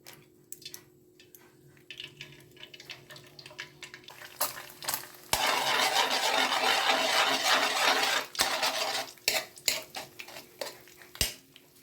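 An egg is dropped into hot chili oil for fried rice, bursting into a loud continuous sizzle for a few seconds amid sharp clinks of utensils and pan scraping before and after, close and without talk.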